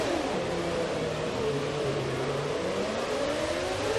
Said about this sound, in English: just listen to the tone of this engine